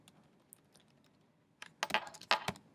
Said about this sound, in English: now I'm going to type the body tag